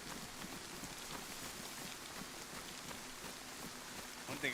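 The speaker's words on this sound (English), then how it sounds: "One thing about, traveling in this rain, the infected can't really hear your footsteps." Rain falling steadily in the survival video game DayZ, set in Chernarus, a dense, even hiss of drops that holds at constant loudness throughout with no talk.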